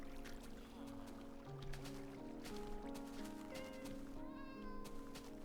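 A cat meows inside the Minecraft video game, its short calls rising over a busy layered backdrop of steady game music and effects, with no clear talk alongside.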